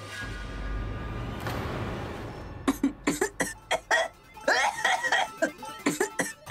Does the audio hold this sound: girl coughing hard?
yes